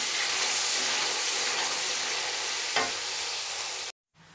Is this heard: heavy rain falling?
no